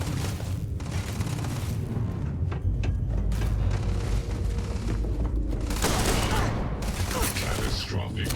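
Repeated loud gunfire bursts from a shotgun in the game Starfield, booming blasts in a dense, continuous combat mix with a sharp rise in intensity near the end.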